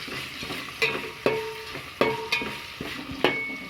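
Mint leaves stirred into frying curry for bagara rice and chicken curry, a utensil scraping the pan in several sharp strokes about every half second over a steady sizzle, close and alone.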